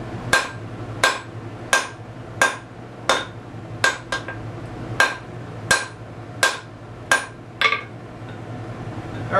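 A blacksmith's hammer strikes hot steel on an anvil at a forge, about fourteen sharp ringing blows in a steady rhythm, each with a short metallic ring, close and loud over a low forge hum.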